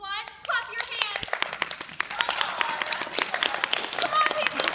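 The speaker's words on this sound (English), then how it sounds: "If you believe Hansel can fly, clap your hands." A high school theater audience claps hands in scattered, building bursts, and voices talk and call out over the clapping.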